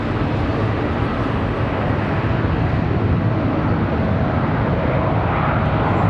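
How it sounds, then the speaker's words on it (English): American Airlines Boeing 737-800 departing Charlotte Douglas International Airport for Nassau, heard as a loud, continuous, broad jet-engine roar with steady rumbling, dominating the scene without talk. "We've got American 893 off to Nassau, the 737-800."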